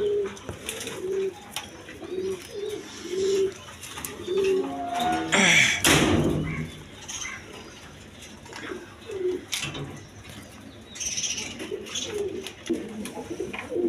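German Beauty pigeons cooing close by in a pigeon market stall, repeated soft throaty coos in a steady rhythm with a sharp rustle or flap midway and more cooing afterward.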